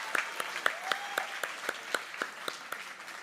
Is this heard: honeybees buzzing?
no